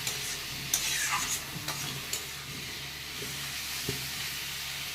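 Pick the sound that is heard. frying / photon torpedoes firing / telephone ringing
frying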